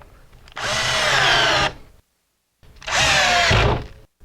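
A power drill drives mounting screws into a WFCO WF-9855 deck mount converter in two loud, close bursts of about a second each, separated by a short silence.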